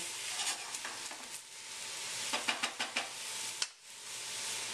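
Empanada filling sizzles and fries in a pan, a steady hiss broken by a run of soft scraping tosses and stirs, with a brief lull near the end before the frying resumes.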